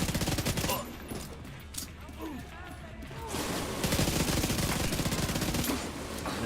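Rapid, sustained automatic-style gunfire from a pistol in Division 2, a 31-round magazine emptied in fast bursts that swell louder toward the end, with busy game sounds throughout.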